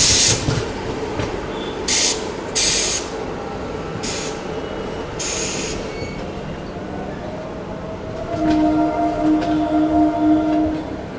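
The 12398 New Delhi–Gaya Mahabodhi Express runs at speed, a loud continuous rumble and rattle of wheels and carriages with sharp bursts of rushing noise and a tonal horn-like drone near the end.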